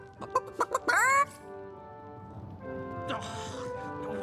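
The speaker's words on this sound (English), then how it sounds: "Why did you let my chicken escape?" A chicken clucks in the video game Divinity Enhanced Edition, a quick run of short clucks rising into a loud squawk, then quieter clucking a couple of seconds later over a soft game background.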